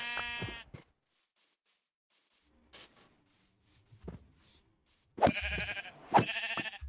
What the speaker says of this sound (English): Let's slay the sheep.